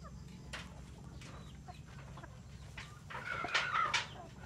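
Chickens cluck and squawk nearby over a low background rumble, with a louder burst of calls toward the end.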